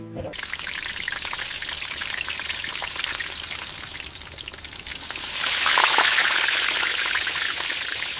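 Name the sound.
fish frying in a pan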